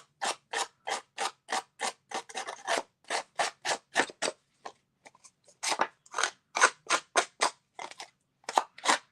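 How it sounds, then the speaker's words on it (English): Scissor blades scraped repeatedly along the edges of paper card layers to distress them, a steady run of short, crisp rasping strokes with brief pauses, close and fairly quiet with no talking. "When you don't have your distress tool, just use your scissors."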